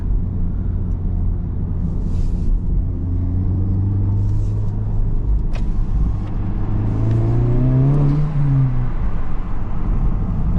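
A Honda Civic Type R FL5 with a front resonator delete and its exhaust valve fully open drones loudly and steadily from close by, then its engine note climbs and falls as it revs, with no talking.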